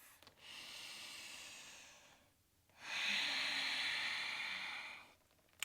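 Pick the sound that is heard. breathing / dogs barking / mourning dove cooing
breathing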